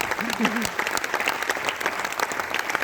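Audience applause at a Hindi poetry recital by a poet, a steady wash of clapping throughout, moderately loud and continuous, with a voice briefly audible early on.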